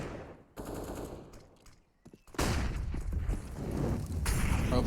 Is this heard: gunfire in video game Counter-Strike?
yes